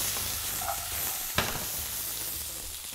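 New potatoes, cut into small even pieces, fry in a pan with steady broadband sizzle, a single sharper clatter of tossing partway through; no talking.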